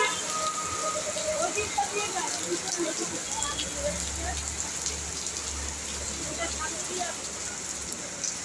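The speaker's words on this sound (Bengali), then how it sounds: "প্রচণ্ড বৃষ্টি কিন্তু হচ্ছে" Heavy rain pours over Kolkata as a continuous broadband wash with scattered drop patter and a low rumble underneath, steady throughout.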